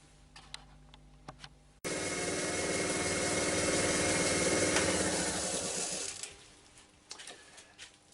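A wood lathe, about to turn a vase from offcuts, switches on abruptly after a few quiet workshop clicks, runs with a strong steady whir for several seconds, then winds down, leaving faint knocks.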